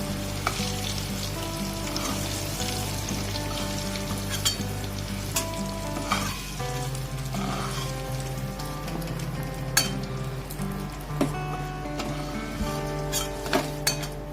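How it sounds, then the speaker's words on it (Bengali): Pumpkin pieces fry in oil in a pan, a steady close sizzle that runs the whole time with a soft stirring scrape and occasional light clinks of a spoon against metal. "কুমড়ো তো অল্পতেই আপনার সেদ্ধ হয়ে যায়, এই কুমড়ো বেশি ভাজার দরকার নেই।"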